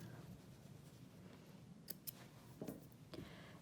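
Scissors trimming sewing thread during a trouser seam repair, a few small sharp snips over a soft steady background hiss, close and quiet.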